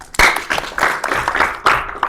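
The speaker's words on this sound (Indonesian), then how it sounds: "Tepuk tangan dulu." A small group claps in uneven bursts, a handful of sharp close hand claps scattered across a couple of seconds rather than sustained applause.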